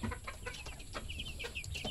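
Several chickens cluck and chirp nearby in quick, overlapping bursts, a busy flock chattering steadily.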